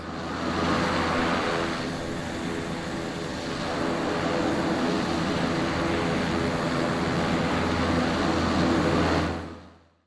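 Steady turboprop engine drone from a Black Square Starship in Microsoft Flight Simulator, a continuous loud hum and whine that holds evenly before cutting off at the end.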